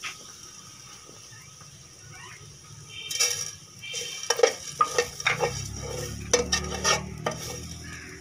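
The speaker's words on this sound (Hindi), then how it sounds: "आप बर्तन में घी डाल लें और उसमें लहसुन जो बारीक किया हुआ था वो इसमें डाल दें।" Minced garlic with whole cumin and coriander seeds frying in a little ghee in a pan, a soft steady sizzle broken by a spoon scraping and stirring the metal pan, with sharper clinks toward the end.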